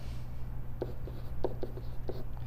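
Pen writing math by hand on paper, a few short scratchy strokes in an uneven rhythm over a low steady hum, close and fairly quiet, with no talking.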